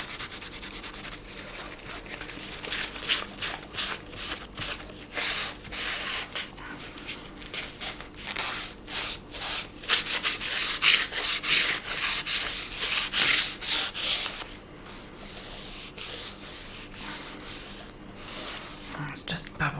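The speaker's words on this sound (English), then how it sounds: "I can just rub that into a ball" Dried glue is rubbed off fingertips into a ball during a craft project on a Christmas journal cover, a close, soft, uneven scratchy rubbing under a quiet voice.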